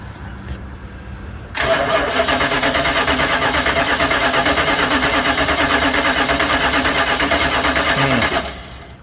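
Starter cranks a 1986 Dodge Ramcharger engine with a freshly fitted coil in one loud, continuous, close-up run of about seven seconds, which then stops abruptly; no speech is heard.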